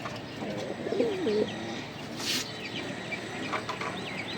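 A pigeon coos a soft rolling phrase close by, followed by quieter background rustle and a few faint chirps, with no talking.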